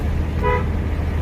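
A car horn gives one short, clear toot during a driving lesson, set against a steady low hum of the car's engine and road noise.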